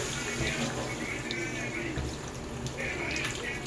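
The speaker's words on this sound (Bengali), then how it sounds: "এতে আমি পরিমাণ মতন জল দিয়ে দিচ্ছি" Water is poured over sautéed vegetables in a pot for a fish curry, a close continuous pouring and splashing sound in a couple of bursts with brief pauses.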